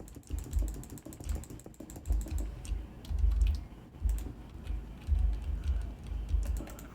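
Keys clatter on a computer keyboard in uneven bursts of quick clicks, close to the mic, with short pauses between flurries and a low thump from the desk under each run.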